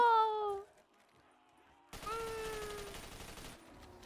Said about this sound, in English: everybody throw your grenade in celebration